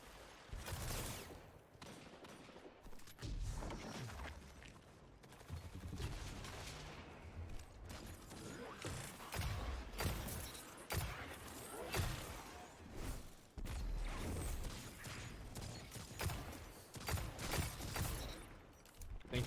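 Rapid handcannon gunfire in a fast-paced video game, with dense repeated sharp shots, heavy impacts and whooshes filling the whole stretch, loud and near with no pauses.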